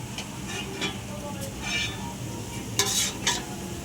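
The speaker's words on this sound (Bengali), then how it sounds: "ঘি গরম হয়ে গেছে, আমি এবার ভেজে নেব।" Thekua, the wheat-flour sweet made for Chhath Puja, frying in hot ghee mixed with white oil, giving a steady close hiss of bubbling fat broken by a few louder crackling bursts.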